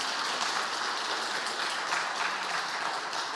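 An audience at a church-community talk gives hearty applause for a translator, a dense, even rush of many hands clapping at steady loudness with no voices over it.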